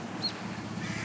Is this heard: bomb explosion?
no